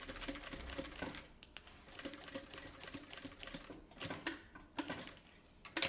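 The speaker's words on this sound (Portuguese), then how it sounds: "Procura fazer uma costura reta." A sewing machine runs a straight seam on an anti-theft backpack, a close, steady mechanical whir broken by short pauses and restarts, with no one talking.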